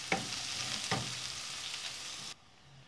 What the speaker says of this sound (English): Once the oil is hot, add the onion and fry this onion until they turn like brown in color.